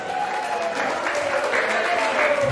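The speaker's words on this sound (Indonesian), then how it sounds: "Tepuk tangan dulu." Audience applause in a lively gathering, a sustained crowd of hands clapping at fairly close range with murmured voices mixed underneath, steady throughout.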